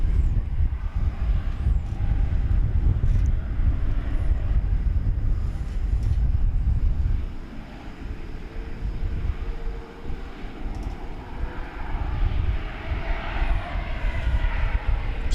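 An American airliner bound for London takes off from a DFW airport runway, its jet engines roaring loud and continuous at first, then easing and rising again with wind buffeting the microphone.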